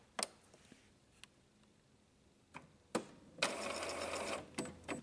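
An Epson inkjet printer starts up with a few scattered clicks and knocks, then a buzzing mechanical whir as its parts move, followed by more clicks.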